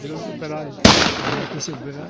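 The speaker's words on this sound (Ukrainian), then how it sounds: "Розділ німецького купівського війська здійснює постріли по відділенням російської імператорської армії" A single sharp rifle shot cracks loudly at a WWI battle reenactment on Makivka mountain, where a German unit fires on Russian imperial army troops. Background voices talk throughout, and the shot's echo trails off under them.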